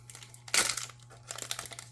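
MTG Secret Lair card packaging being opened by hand, with close, crisp plastic wrapper crinkling in two bursts, a sharp loud rustle followed by lighter crackles, and no talking.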